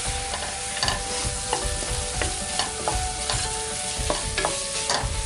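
Chilli tapioca with ketchup is stirred briskly in a pan, with rhythmic metal spoon scrapes and clinks repeating every half second or so over a loud, close sizzle.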